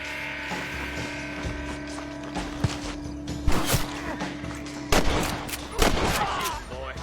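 Gunshots in the Western game Red Dead Redemption, a few sharp cracks over a steady background of ambient hum and game noise, moderately loud and spaced apart.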